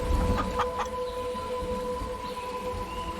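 Chickens and a rooster on a farm clearing in the Rockies, a few short clucks near the start over a steady hum and outdoor background, with softer fowl murmurs continuing faintly afterward.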